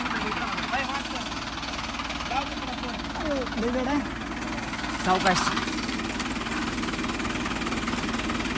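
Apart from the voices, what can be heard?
tractor engine running during a lift ride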